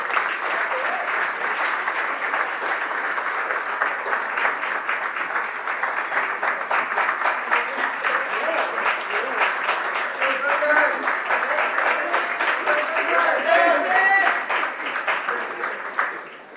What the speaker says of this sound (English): Let's please welcome him with a round of applause